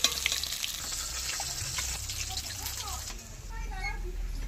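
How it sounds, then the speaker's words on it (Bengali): Remaining pieces of katla fish frying in oil in a home kitchen, a soft continuous sizzle with light stirring clatter and a low background hum, faint and close. "আর যে মাছগুলি আছে একইভাবে তেলে ভেজে নেব।"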